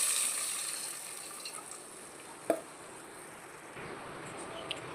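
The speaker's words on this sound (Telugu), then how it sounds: "తగినన్ని నీళ్ళు పోసుకోవాలి" Water poured into a pan of tamarind pulp with turmeric and salt while cooking pappu charu, a soft steady rush and splash at low volume with a brief clink midway, no voices.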